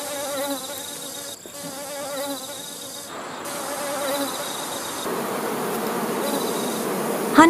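Guard honeybees fanning their wings at a beehive make a dense, close, continuous buzz with wavering pitch and overlapping individual whines, steady throughout with a brief louder rise at the very end.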